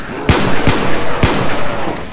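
Gunfire rings out while zombies are shot down in a Minecraft remake of the Verrückt map, with three sharp, loud shots at irregular spacing over a steady din of game noise.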